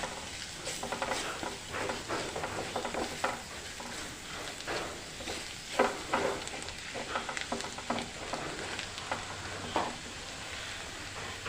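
Masala for squid roast stirred in a pan, continuous close scraping and shuffling over a soft sizzle, with irregular strokes and a few sharper scrapes.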